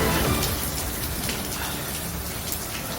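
Heavy rain pours steadily near a fire site in Kapitolyo, Pasig, recorded on a resident's cellphone, a dense, constant hiss of drops beating on surfaces with no voices.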